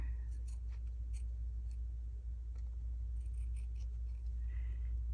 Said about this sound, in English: I'm going to go ahead and trim it right here.